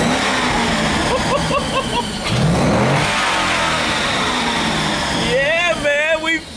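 Burnout car with open headers revving hard up toward 6,000 RPM, raw loud engine roar climbing and falling in repeated pulls, close by, with excited voices talking over it.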